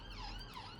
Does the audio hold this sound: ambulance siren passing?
yes